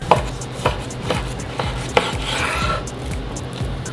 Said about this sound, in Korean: 피카냐는 결방향 그대로 약 5cm 두께로 커팅했습니다.